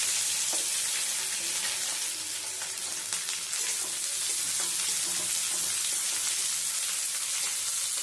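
Chopped onion and a dried red chili sizzle steadily in hot mustard oil, a dense frying hiss with scattered stirring clicks, close and continuous throughout.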